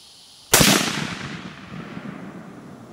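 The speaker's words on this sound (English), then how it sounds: "Let's take a shot right there." A single sharp gunshot fired outdoors during a field test of a Feyachi V30 red dot sight, loud and close, followed by a long decaying echo across open ground, with no talk.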